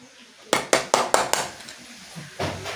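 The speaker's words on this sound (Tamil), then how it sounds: "இப்படி இந்த பல்பை இப்படி ஒரு சைடாக வச்சு தட்டினீங்கன்னா பல்பு ஓப்பன் ஆயிரும்." A light bulb is tapped on its side to crack it open: five sharp, hard taps in quick succession, then a pause and one more knock, close and clear.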